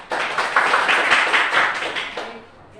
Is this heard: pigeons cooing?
no